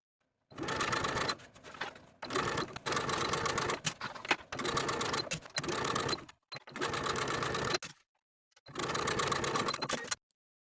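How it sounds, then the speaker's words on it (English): A sewing machine stitches a seam around the upper edge of a dress bodice in about six bursts of whirring, each one to two seconds long, with short quiet pauses between them and nobody speaking. "Then we can sew from one upper edge of the front bodice all the way around to the other with a 3/8 inch seam allowance"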